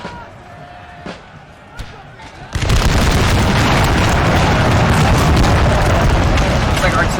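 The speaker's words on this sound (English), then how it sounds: "Looks like artillery really focusing the area" Artillery fire in a huge Napoleon Total War battle: after a few scattered distant thumps, a sudden loud, continuous roar of booming cannon and battle noise that holds steady to the end.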